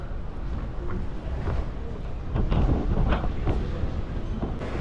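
A metro train in Taiwan rumbles past with a low, heavy roar and faint rhythmic clatter of wheels, steady and fairly close, with no voices.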